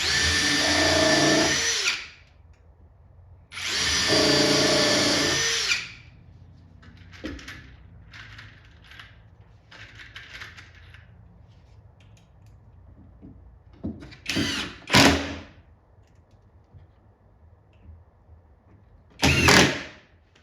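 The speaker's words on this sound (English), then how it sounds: "I'm just going to put 3 screws on each side." A power drill drives screws into 3/4-inch birch plywood in bursts: two long whirring runs, then several shorter blips and taps, close and loud between quiet pauses.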